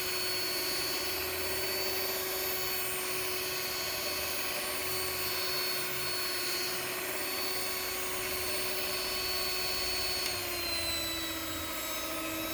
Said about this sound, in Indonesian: kita mixer selama kurang lebih sekitar 7 menit